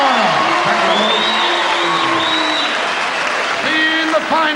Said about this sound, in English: Now, folks, I'm going to ask you for a round of applause for 2 young visitors to Great Britain, Ross and Owen.